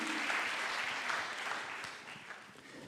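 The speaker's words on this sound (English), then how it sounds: "Please, round of applause, everybody." Audience applause for a speaker at a university student enterprise showcase, a soft, fairly distant wash of clapping that slowly tapers off.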